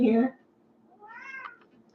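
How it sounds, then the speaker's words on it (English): A house cat meows at a door, a rising and falling cry that comes after a brief burst of speech, fairly close and moderately loud in a quiet room. "he's been meowing for 20 minutes at the door"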